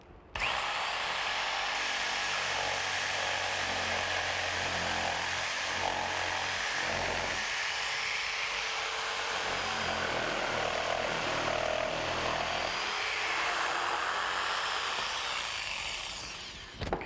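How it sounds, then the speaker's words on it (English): A jigsaw cuts wood for a pergola template, running just off the line. The motor buzzes loudly and steadily for about seventeen seconds, then stops. "I'm going to start by using the jigsaw, staying about 1/8 of an inch away from the line."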